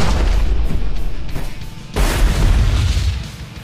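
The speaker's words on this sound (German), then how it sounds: "Wie oft explodiert der denn?" A vehicle in the stunt driving game Bridge Constructor Stunts blows up with loud, deep booming blasts, a heavy rumble followed by a second explosive burst, with no talk over it.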